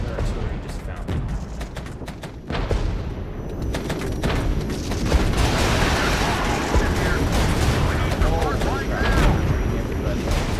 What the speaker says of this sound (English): Their artillery just found me.